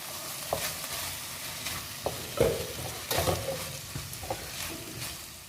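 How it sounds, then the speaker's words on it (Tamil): Beetroot for a chutney sizzles softly in a pan on medium heat, with a steady low fry broken by several scrapes and stirs of a spoon against the metal, heard close and with no talking. "இந்த பீட்ரூட்டை நம்ம லைட்டாக வதக்கிட்டு அப்புறமா நம்ம மூடி வச்சிடலாம், கொஞ்சம் வேகணும்."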